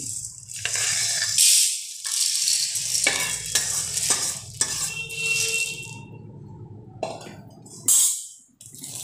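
Roasted sabudana scooped from a pan onto a plate, dry granular rattling and scraping in close bursts with brief pauses between scoops.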